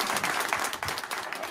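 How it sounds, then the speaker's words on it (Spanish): A brief burst of applause breaks out at the inauguration of a rural guesthouse in Cuacos de Yuste, Cáceres: a crowd claps steadily together, with voices mixed in. "Venga, un aplauso, gracias, Ángel Coño."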